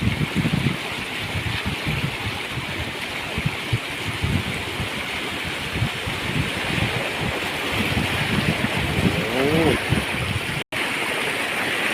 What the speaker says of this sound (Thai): น้ำไหลแรงนะครับผม